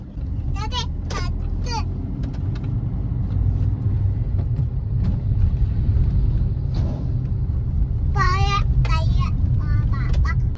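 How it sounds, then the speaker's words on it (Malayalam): A bus drives past on a road in rain-free weather, with a low engine rumble that swells through the passage while a child and an adult talk intermittently over it. "അതുകൊണ്ട് ഇഷ്ടപ്പെട്ട ബസ് അതാ പോകുന്നത്"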